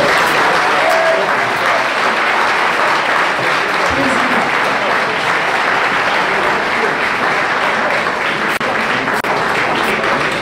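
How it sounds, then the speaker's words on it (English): An audience at a gala dinner honoring Charlie Rangel with a humanitarian award applauds loudly and steadily, a continuous wash of clapping from start to end. "I think we need to give him a round of applause"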